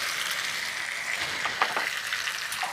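Turmeric and other spices stirred into hot oil with chopped vegetables for a Bengali green bean and mung dal dish, giving a steady close sizzle broken by a few scraping spoon strokes, with no talking.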